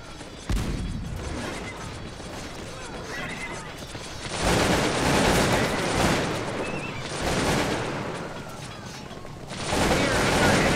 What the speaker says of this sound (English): Here, under enemy gunfire!